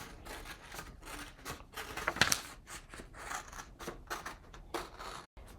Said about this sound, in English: I'm going to go ahead and cut and tape the rest of these patterns.